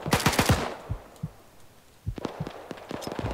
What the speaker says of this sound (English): That an enemy shooting at us.